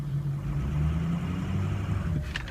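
A 2003 Ford F250 diesel 4x4 truck idling in 4 low as it is shifted into drive, a steady low diesel rumble close by, ending in a brief clunk, with no talking.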